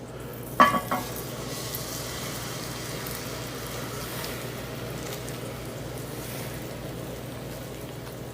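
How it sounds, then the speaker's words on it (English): Cornbread batter hits a hot cast iron pan with a brief clatter, then a steady, even sizzle holds for several seconds, close and unbroken. "the best part about making cornbread in cast iron. Well, the second best part. And that is the sizzle."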